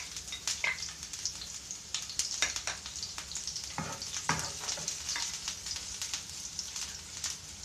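Onion frying in a pan over medium heat, a steady close sizzle with crackling pops and occasional stirring scrapes running throughout.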